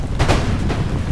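Musket volleys and artillery fire from a large line battle in the video game Empire: Total War, several overlapping loud booms and cracks around a quarter and three quarters of a second, with a continuous rumble of battle between them.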